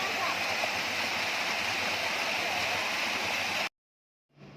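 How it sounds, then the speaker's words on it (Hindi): A waterfall among rocks feeding small cold pools near a tea garden roars in a loud, steady wash of water, then cuts off abruptly near the end. "ये जो वाटरफॉल आ रहा था"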